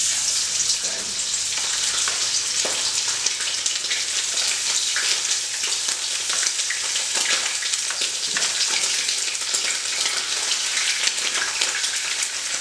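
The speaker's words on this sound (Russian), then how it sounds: "Сейчас сюда идут обжариваться ребрышки." Pork ribs are dropped into smoking-hot oil for plov. They fry with a loud, continuous hissing sizzle that crackles steadily and close up, with no voices.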